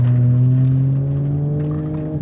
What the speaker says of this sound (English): Dude, this exhaust sounds good, man.